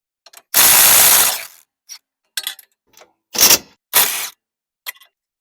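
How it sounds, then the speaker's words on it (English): Pneumatic impact gun loosening tight 19mm bolts on a Toyota Camry rear suspension, one long loud rattling burst followed by several shorter hits and bursts, with no talking. "We're going to be using an impact gun for this because they're going to be pretty tight."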